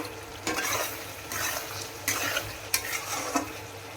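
Meat being browned and stirred in a hot pan, with a steady sizzle broken by several sharp scraping strokes of a spoon against the metal; close and alone, no talk.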